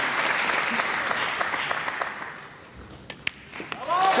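A crowd at a professional pool championship match at the 2024 European Open applauds in a dense, steady burst that thins toward the end, with a commentator's voice coming in over it.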